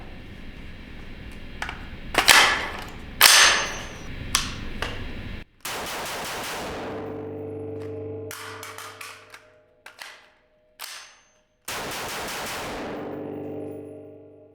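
Springfield Hellion VHS-2 bullpup rifle firing: sharp close gunshots, first single spaced shots, then several long rapid strings with pauses, with metallic clanks between them.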